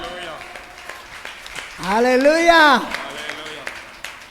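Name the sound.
congregation clapping hands in church service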